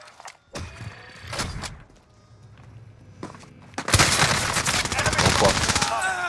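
Call of Duty Warzone gunfire on Rebirth Island, starting with a few scattered thuds and shots, then a loud, sustained burst of rapid automatic fire close by in the last few seconds.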